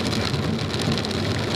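Heavy rain water on a wet racetrack around a 2017 Corvette Z06 at Circuit Mont-Tremblant, a dense, steady rushing wash of spray and droplets, loud and close throughout with no talking.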